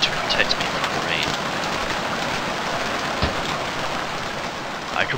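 Steady rain falls in the survival game Stranded Deep, a continuous wash of hiss with a few faint ticks and splashes, evenly loud throughout with no voices.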